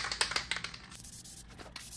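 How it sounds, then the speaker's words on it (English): Quick, hissing spray bursts hit a Spitfire 1500 carburetor up close in a rapid rhythm during the first second, then soften into fainter spritzes. "So we're gonna spray a little."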